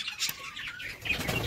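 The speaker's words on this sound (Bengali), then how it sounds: "পাখিগুলো কখন থেকে চিল্লামিল্লি করছে" Pigeons squawk on a rooftop in a brief flurry of sharp, quick calls and chirps, fairly faint and a little distant.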